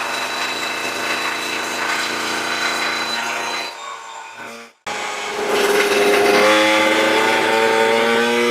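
A Booster scooter with a 77cc Athena kit revs hard on a dyno roller, a loud raspy two-stroke wail that drops off briefly, then climbs steadily again in pitch.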